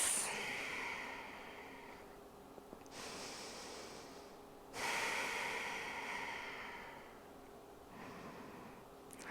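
Slow, deep breaths during a pregnancy yoga session, with long airy inhales and exhales rising and falling in soft waves, close and steady with no talking.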